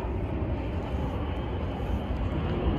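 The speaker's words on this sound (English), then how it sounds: "I wish there wasn't a plane going directly over us right now" Airplane passing directly overhead outdoors on a street in San Diego, a steady broadband roar holding constant throughout with no talk over it.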